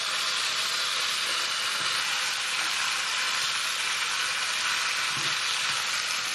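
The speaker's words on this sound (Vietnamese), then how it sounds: "Chiên lật trở." Pork trotters fry over high heat in oil with onion and garlic in a pan, a steady, close, bright sizzle and crackle that continues unbroken, with no talking.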